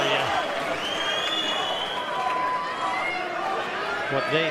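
Pool crowd at the Mosconi Cup applauding a shot, a steady wash of clapping and cheering that fills the whole stretch, with a commentator's voice running over it.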